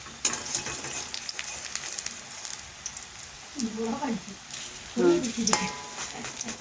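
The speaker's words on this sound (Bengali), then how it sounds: "এই যে বড়া ভাজি, এই কুমড়ো ফুলের বড়া" Pumpkin flower fritters sizzling in hot oil in a home kitchen, a soft continuous frying hiss with a few brief stirring scrapes and short louder crackles, close and moderately loud.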